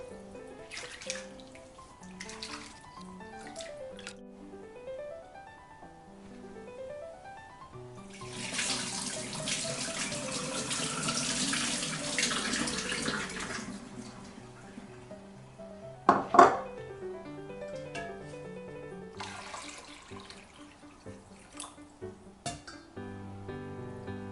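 Rice is washed in a sink, with running tap water, sloshing, rubbing and draining, and dishes and a utensil clinking now and then, including a louder stretch of pouring water midway. All of it is close and unvoiced.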